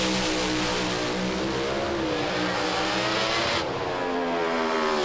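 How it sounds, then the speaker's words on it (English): A Pro Alcohol drag racing car thunders down the track at Willowbank Raceway, a loud, continuous high-revving engine roar with rising harmonics that shifts abruptly near the end of the run. "John Cannuli will get a free ride in this round 3 race"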